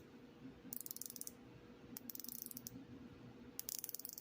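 Ratcheting bezel on a San Martin SN019 watch turned in three quick bursts of crisp, close clicks, each a rapid run of tiny detents separated by short pauses.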